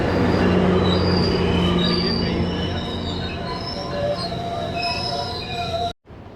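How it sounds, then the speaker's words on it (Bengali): A local train rolls into a station in Toronto close by with loud, sustained metallic wheel squeals over a heavy rumble, ending in an abrupt cut. "স্টেশনে অপেক্ষা করছি এই লোকাল ট্রেন এখন ঢুকছে"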